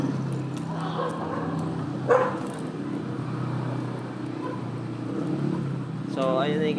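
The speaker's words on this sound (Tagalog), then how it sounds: "So, ayun na yung ginagawa ng aso nyo." A rottweiler gives a short bark and later a few whiny yips outdoors, with someone talking steadily over faint background hum.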